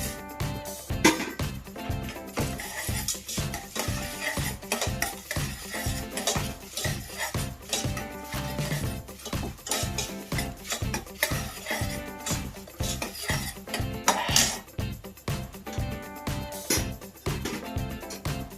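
Chana dal frying in a pan while being stirred, a steady run of rhythmic metal spoon scrapes and clinks against the pan over a light sizzle, with no talking.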